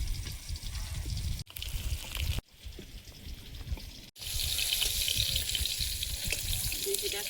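Fish sizzle and crackle in hot oil in a home kitchen, a steady frying hiss broken by brief pauses, with faint stirring and water sounds nearby.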